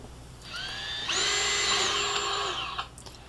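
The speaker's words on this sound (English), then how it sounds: "I go ahead and drill them out so that I can get my screws through there" A power drill whines up to a high, steady pitch while drilling screw holes, holds for a couple of seconds, then winds down; close and alone.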